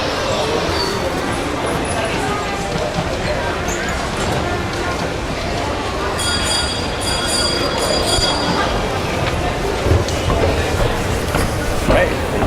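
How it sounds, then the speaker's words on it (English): Train rolling along railway tracks, a continuous rumbling clatter with metallic clinks and faint squeals, heard steadily nearby for the whole stretch. "Following a train."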